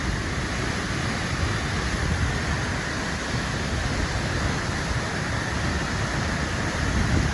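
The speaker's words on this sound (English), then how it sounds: "So this is the Henrhyd waterfall." Henrhyd waterfall, the plunging falls in a wooded gorge, roars as a steady, dense broadband wash of falling water heard close by, unbroken and loud throughout with no voices.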